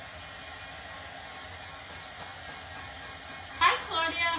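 A hair dryer blows on a craft piece with a steady, fairly faint airy whoosh that runs throughout, with a brief louder burst of clattering handling near the end.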